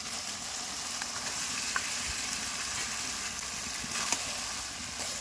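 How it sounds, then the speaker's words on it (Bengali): Chicken fries in already cooked-down masala for Bengali chicken kasha, an even, fairly quiet sizzle running throughout with a couple of faint clicks from the pan, no one talking. "দেখো আমার মশলা সব ভালোভাবে কষানো হয়ে গেছে। এর মধ্যে দিয়ে দেবো চিকেন।"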